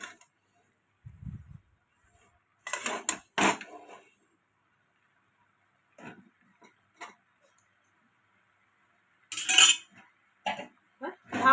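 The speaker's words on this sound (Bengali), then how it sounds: "দিয়ে ভালো করে নাড়াচাড়া করতে থাকি।" Salted vetkul leaf curry stirred in a pan on the gas: sparse, separate clinks and ticks of a spoon against metal, with long quiet gaps and a short burst of several knocks near the end.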